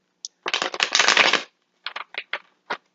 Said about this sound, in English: I usually shuffle the deck until it doesn't go anymore